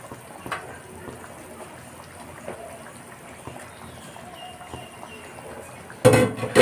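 Fish pieces lowered one at a time into a pot of boiling water for a fish curry; a soft, steady bubbling with a few small plops, ending in a sudden louder clatter.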